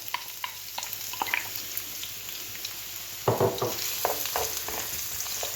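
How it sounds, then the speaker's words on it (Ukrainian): Onion fries in vegetable oil in a preheated pan, a soft continuous sizzle with occasional stirring clicks and a louder burst of crackling partway through. "І зараз я буду, в першу чергу, я піджарюю цибулю"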